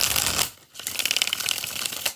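Tarot cards are shuffled close up, producing dense crisp riffling and flapping bursts, a short pause, then more rapid rustling shuffles.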